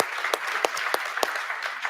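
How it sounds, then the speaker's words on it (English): Audience applause at a TEDx talk in Sugar Land: a brief burst of many hands clapping, with a few sharper, louder claps standing out from the continuous patter. "we owe her a round of applause for her strength to come up here to tell her story"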